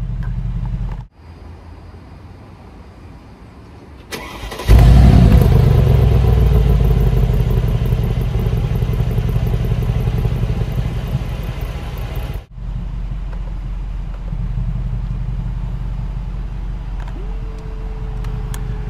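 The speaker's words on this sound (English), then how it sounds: "Fires right up." A 2020 Mercedes-Benz G63 AMG starts with a loud roar that settles into a deep, rumbling idle up close, then the exhaust note drops to a lower steady burble.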